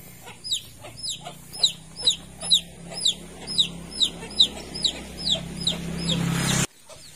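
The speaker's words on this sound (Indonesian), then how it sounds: "Ini ada kutuk atau anak ayam yang jatuh ya." A small chick that has fallen cheeps in a steady series of high, sharp peeps, about one every half second, close by over a low background hum, with a brief louder noise near the end.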